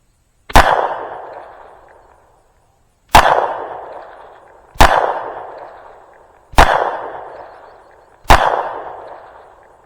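Five sharp, loud pistol shots ring out one at a time at an outdoor shooting practice, each with a short echoing decay and irregular pauses of one to three seconds between them.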